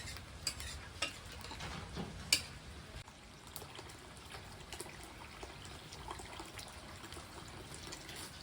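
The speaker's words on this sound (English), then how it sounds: "I'm going to add some more water to it" Water is poured and stirred into a pork and mustard greens gruel cooking in a pot, giving faint trickling, soft stirring scrapes and light sizzling in a quiet kitchen, with no talk.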